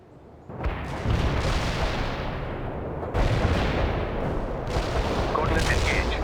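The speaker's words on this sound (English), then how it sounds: "Just want an artillery barrage." Artillery barrage in the real-time strategy game World in Conflict: Soviet Assault, heavy continuous rumbling booms and blasts rolling in dense overlapping waves, loud and sustained, with a brief quieter start before the bombardment kicks in.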